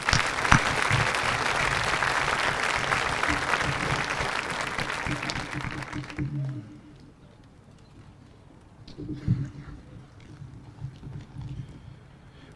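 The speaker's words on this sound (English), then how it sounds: "Let's give these AP Scholars one more round of applause" An audience at a senior awards ceremony gives a round of applause for AP Scholars. The clapping is loud and sustained for about six seconds, then stops abruptly, leaving a quiet room with a brief murmur of voices.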